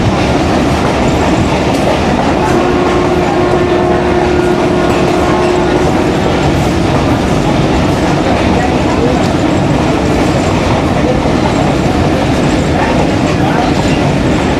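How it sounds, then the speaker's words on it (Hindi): A Kohat Express passenger train slows under braking on the approach to a station, a loud, steady rumble of wheels and car noise with rhythmic clickety-clack throughout and a faint sustained squeal briefly rising over it. "स्टेशन का बोर्ड होता है और ब्रेक सप्लाइड हो रही है।"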